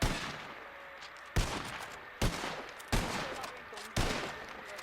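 Volley of rifle fire during a fire-by-file drill by a line infantry reenactment unit, five sharp reports spaced about a second apart, each with a rolling outdoor echo.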